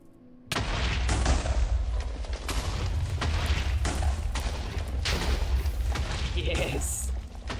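Repeated explosions and booms in a terraforming video game, a loud continuous barrage of blasts and rumbling impacts after a short quiet start, with a voice briefly audible.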